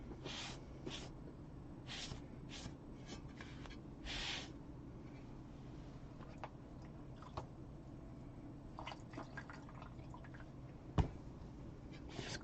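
Paintbrush rinsed in a water jar while painting a floral butterfly tray, soft swishes and drips with a few quick sloshing taps near the start, quiet and close, with no talking.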